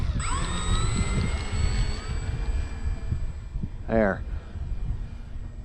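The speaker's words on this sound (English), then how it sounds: "Motor on." Electric motor of an E-Flite Trojan 1.1m T-28 RC model airplane whines at a high steady pitch and rises as it spools up, over outdoor wind rumble, with a brief voice partway through.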